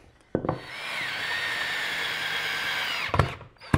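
A power drill bores a hole into a wooden Adirondack table frame, one steady whining run of about three seconds, close and loud, with short clunks of handling before and after.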